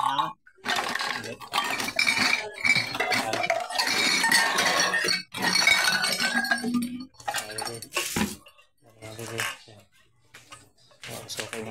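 Many metal cans clinking and clattering as they are handled in a scrapyard-style setting, with dense jangling bursts and people talking throughout.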